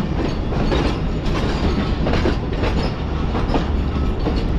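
The Karakoram Express rolls in from Lahore, a loud continuous rumble of wheels and carriages with rhythmic clatter and faint squeals, close and steady throughout without speech.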